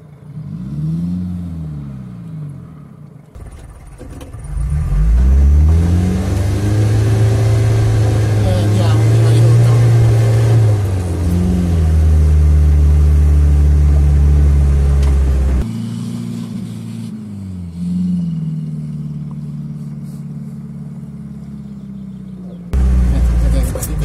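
A Campagnola off-road vehicle's engine revs in low reduced first gear, a loud, strained drone that rises and falls in pitch for most of the stretch, with a voice talking over it and the motor dropping away near the end.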